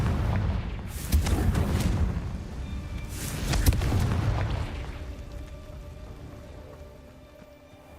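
Confringo spell explosions in Hogwarts Legacy, two heavy booming blasts about two seconds apart, each with a deep rumbling body and crackling burst, then a long fading low rumble into quieter ambience.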